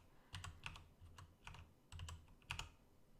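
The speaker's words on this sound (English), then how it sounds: "So let's just type that here." Typing on a computer keyboard, a few quick bursts of key clicks separated by short pauses, close and fairly quiet with no talking.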